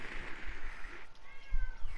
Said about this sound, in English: Was that a fucking cat I just heard in the game?